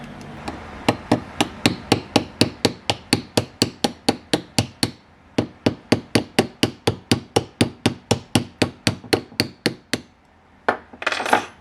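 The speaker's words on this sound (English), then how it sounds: "Just persistently tapping down and prying it apart and just checking to see we're not going to hit any components there." Repeated sharp taps ring out in a steady rhythm of some thirty strikes as the plastic casing of an Astro A20 headset is tapped and pried apart, close and loud, with a brief pause midway and a scraping rustle at the end.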